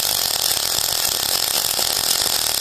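MIG/MAG welding with solid wire: a steady, loud, crackling buzz that continues unbroken and alone at close range.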